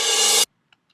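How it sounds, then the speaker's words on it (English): Reversed crash cymbal with low and mid frequencies cut: a bright, hissing swell that holds loud for under half a second and then cuts off sharply into silence, alone. "I have a reversed crash cymbal and sounds like this."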